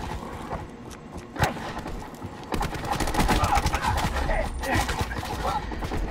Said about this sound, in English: Stupid burst weapon.